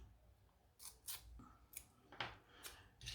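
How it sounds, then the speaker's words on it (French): Scissors snipping small pieces of masking tape, several crisp close cuts spaced irregularly across a few seconds, quiet and without talking. "on va découper des petits morceaux de bande"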